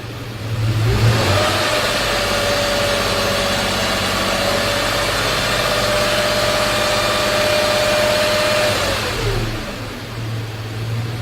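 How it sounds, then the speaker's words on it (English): Car engine revved and held at steady higher speed during an alternator and charging-system test, rising from idle, sustaining a constant drone for several seconds, then dropping back to idle; loud, close, no talk. "Now we rev it up."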